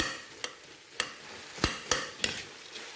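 Jareesh being stirred in a pan, with a handful of sharp utensil scrapes and knocks at irregular intervals against a faint, quiet background.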